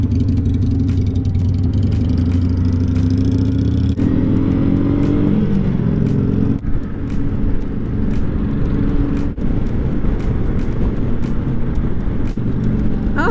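Harley-Davidson Sportster motorcycle cruising on a Florida highway, a loud steady engine drone with deep rumble and rushing wind, its pitch shifting slightly as it rides along, with no talking.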